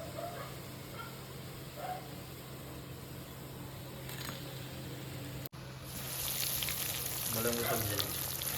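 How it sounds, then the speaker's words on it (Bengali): Fish cutlets made from Bombay duck fry in oil with a soft, steady sizzle under a low hum and faint voices in the background. The sizzle grows brighter and louder after a brief cut partway through. "এইভাবে সবগুলো ভেজে নেবে"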